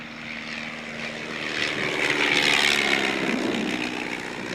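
A Miles Magister monoplane trainer passes at an airshow, its propeller engine a loud, buzzing drone that swells toward a peak midway and then eases off, with no talk over it.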